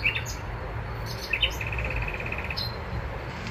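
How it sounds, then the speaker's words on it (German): Small birds chirp outdoors in early spring weather, faint and somewhat distant, with a few short tweets followed by a brief rapid trill over a steady low background hum. "Hört ihr die Vöglein zwitschern?"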